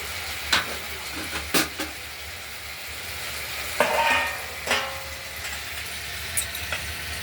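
Spice paste for a rohu fish curry with potato and tomato fries in oil with a soft, low sizzle, broken by a handful of spatula scrapes and clanks against the pan.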